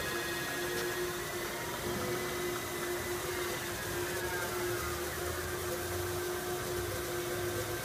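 A TRAK 3-axis CNC bed mill with a 40-taper spindle runs in gear, giving a steady, continuous mechanical whine and hum at even level throughout, with no voices.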